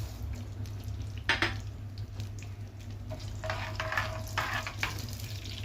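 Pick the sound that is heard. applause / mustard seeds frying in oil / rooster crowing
mustard seeds frying in oil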